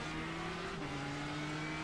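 Ford GT GTE race car engine at Spa in a racing video game, a steady sustained drone with a pitch shift as it changes gear, loud and continuous with no talk.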